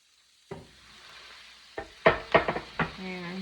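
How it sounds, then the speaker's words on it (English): Chopped beef sizzles as it hits a hot frying pan, with several sharp bursts of crackling and stirring scrapes, close and moderately loud, settling into a steady sizzle. "The meat's gonna go in now."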